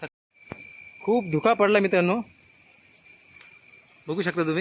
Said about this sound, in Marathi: आणि रातकिड्यांचा गर्र असा आवाज येतोय.